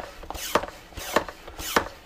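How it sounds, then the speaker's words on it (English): A hand vacuum pump draws warm oil from a sailboat engine. Three regular strokes come about every 0.6 seconds, each a creaking, squeaking mechanical pull at close range, with no talking. "then we use the vacuum pump there to suck the warm oil out"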